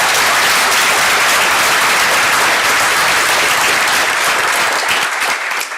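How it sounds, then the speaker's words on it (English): A crowd at a volunteer recognition ceremony gives a loud, sustained round of applause, dense clapping from many hands filling the room before tapering slightly at the end. "How about a big round of applause for our volunteers?"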